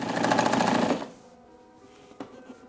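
Faulty sewing machine running in a fast, close mechanical whir for about a second before stopping, followed by quiet with a couple of light clunks.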